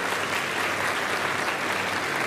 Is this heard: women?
yes